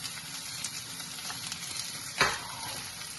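Crushed small shallots frying in a pan are stirred, giving a steady close sizzle with one brief louder scrape of the spoon.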